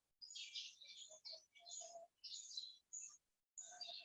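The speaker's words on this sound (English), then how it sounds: "Wow, I think the bird's back." Small bird chirping in short bursts of high, bright tweets with brief pauses between them, close and fairly clear over a quiet indoor room during a slow yin yoga session.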